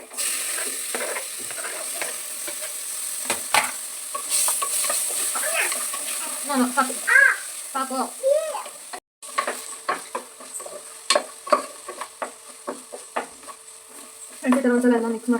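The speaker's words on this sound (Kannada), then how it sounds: "ಈರುಳ್ಳಿ ಸ್ವಲ್ಪ ಕೆಂಪನ್ನು ಬರೋ ತನಕ ಫ್ರೈ ಮಾಡ್ಕೋಬೇಕು" Onions fry in a pan for a Kannada-style dal tadka, with a steady sizzle broken by repeated stirring scrapes and spoon clinks against the pan, close and fairly loud, with a brief cough and a short dropout midway.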